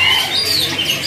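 A canary, an F3-series bird kept among stock birds for sale, gives thin high chirps and a faint thread of song over a steady hiss of background noise, with no talking.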